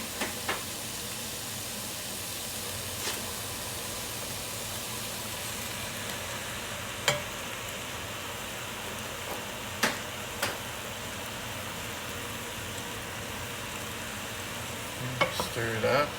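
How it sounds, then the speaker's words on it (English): Cooked noodles being stirred in a frying pan for rapini pasta, giving a steady soft sizzle and hiss with faint scraping and a few sharp utensil clicks against the pan, close and alone. "stir it up just a little bit"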